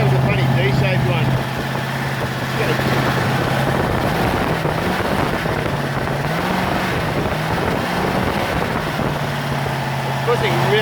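A rebuilt Ford 351 V8 idles steadily on a stand with a continuous low rumble close by. A brief rising note comes partway through, and faint talk can be heard under it.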